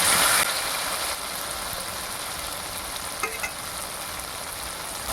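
Water poured into a pan of potatoes frying for a fish and potato curry, a brief splash at the start followed by a steady, close hiss of frying, no speech.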